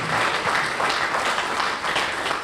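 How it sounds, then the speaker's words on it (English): Banquet audience applauding students at a university donors appreciation event, a steady dense clapping that continues throughout at moderate volume. "I'd like to honor and give them a round of applause"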